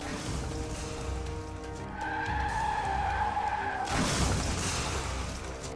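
On a road, a car skids with a steady tire screech, then a broad noisy impact as it slams into two cars parked at the roadside, all under continuous traffic noise.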